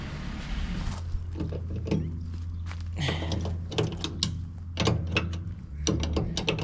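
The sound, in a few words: hand-cranking a ratchet mechanism on an ERF truck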